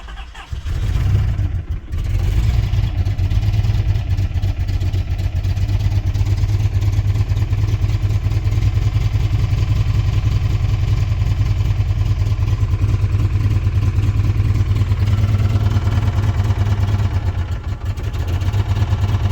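A 1994 Chrysler Town & Country engine running rough on two cylinders turns over, catches, and settles into a loud, close, lumpy idle with an uneven low throb that holds to the end.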